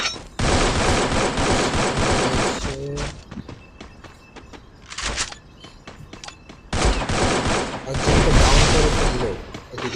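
Sniper shots and rapid gunfire ring out in the Free Fire video game, with dense bursts of loud shooting broken by quieter gaps and single shots.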